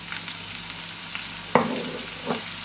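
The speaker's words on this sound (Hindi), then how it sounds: "हाई फ्लेम पर सिर्फ कुछ सेकंड्स के लिए आपने यहाँ पे जो जीरे और हरी मिर्चें को सौटे करना है" Cumin seeds and chopped green chilies sauté in hot oil over a high flame, a steady crackling sizzle broken by a sharp clack of a utensil against the pan.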